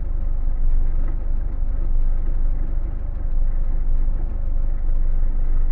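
A car engine idles steadily at 700 rpm with no idle valve, a low, even rumble and faint knocking rhythm, close up and unchanging throughout.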